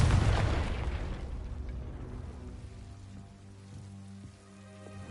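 A Confringo spell blast in the video game Hogwarts Legacy: a loud, booming burst at the start that rumbles and slowly fades into lingering tonal game ambience.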